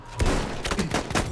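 A new weapon in Battlefield 1 fires a few spaced, punchy shots in quick succession, loud and close, with no talk over them.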